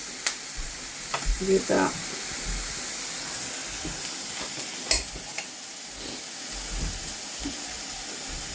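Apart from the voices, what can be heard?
onions and tomatoes sautéing in a pan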